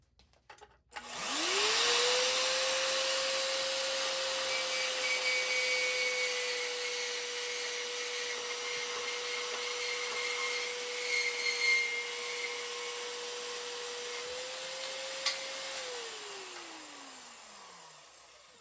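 A Harbor Freight portable bandsaw on its stand cuts metal. The motor spins up, holds a steady whine for about fifteen seconds, then winds down, with no talking.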